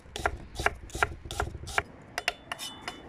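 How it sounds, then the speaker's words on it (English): A kitchen knife slices through onions on a board, a series of distinct crisp cuts in an irregular rhythm, close and fairly quiet, with no talking. "We don't chop them, we just slice them because we want the slices."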